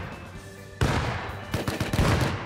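Grenade explosion in the video game Rust, a sudden loud blast after a quiet stretch, followed by a ragged series of crackling bursts and rumbles.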